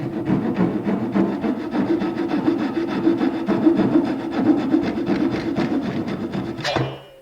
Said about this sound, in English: Then using your flush trim saw,